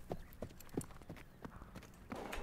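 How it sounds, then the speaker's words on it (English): Horses galloping in a medieval ambience, a quick rhythmic clip-clop of hooves repeating steadily, fairly close and prominent over a soft background. "We've got some horses galloping."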